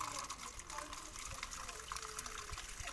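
Tap water gushes steadily into a container while filling with water to wash a money plant, a continuous rushing flow heard close up and fairly quiet.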